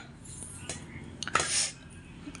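Steel idli plates clink and clatter as they are lifted out, a few short metallic knocks and a brighter ringing scrape, close and moderately loud over a low background hum.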